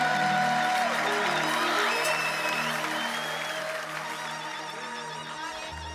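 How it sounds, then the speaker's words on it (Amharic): Congregation applauding with ululation during an Amharic worship service, a dense sustained wall of clapping and high trilling voices, loud and continuous, easing slightly toward the end. "እልልታ ጭብጨባ ከፍ ያለ"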